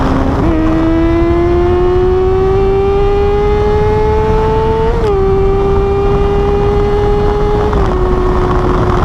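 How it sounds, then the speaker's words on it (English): A 1999 Yamaha R6 motorcycle engine held at high revs, a loud continuous whine that climbs slowly, dips briefly and settles, heard close with no talking. "you can rev the piss out of this thing."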